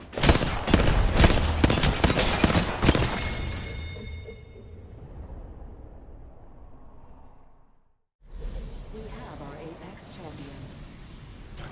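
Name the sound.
several players shooting at one player in the video game Apex Legends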